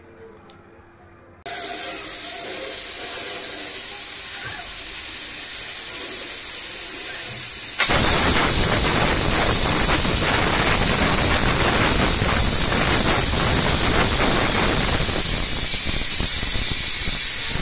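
A pressure cooker holding chicken popti sealed with leaves lets off steam, starting with a brief quiet moment before a steady loud hiss sets in and then grows rougher and more intense near the end.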